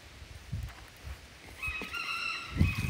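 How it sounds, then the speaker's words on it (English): A rooster crows once in the second half, a clear harsh call over scattered clucks and rustling from nearby fowl. "Stud Man Rooster."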